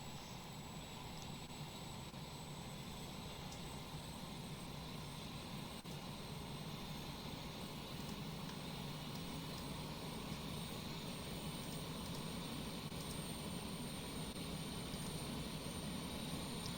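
The APU of a Tupolev 154-B2 in the X-Plane 12 flight simulator, running as a steady, faint turbine drone with a constant high whine and no change over the whole span.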